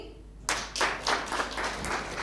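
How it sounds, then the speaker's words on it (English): A room of conference attendees bursts into clapping after a short quiet moment, bright rhythmic hand claps repeating for about two seconds at moderate distance. "Please clap for me."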